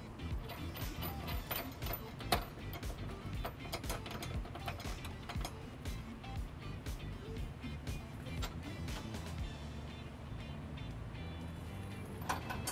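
A nut is tightened onto a trailer hitch bolt under a Hyundai Elantra, giving a run of quiet, close ratcheting clicks and metallic ticks throughout.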